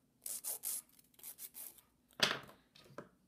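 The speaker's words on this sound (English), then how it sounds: "I'm grabbing my coarse file and I'm shaping the nail." A coarse nail file rasps across an acrylic nail in short, quick strokes, several rhythmic scrapes followed by a brief pause and a couple more, close and fairly quiet.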